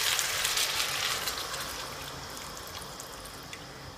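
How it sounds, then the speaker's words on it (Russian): Broth pours over stewing meat with mushrooms and vegetables in a pot, a steady soft hiss of liquid that fades slightly, faint and alone with no talk. "Залили бульоном и ждем до приготовления мяса."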